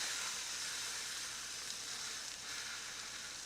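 A Wagyu A5 steak sears on the hot surface of a Halo Versa pizza oven, a loud, steady, close sizzle with no break or talk.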